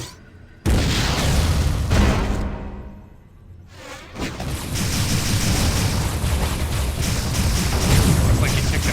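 Missile launched and exploding in the Metroid Other M video game, an abrupt loud boom followed by rolling rumble, a fading lull, a sharp whooshing burst and renewed roaring explosion noise.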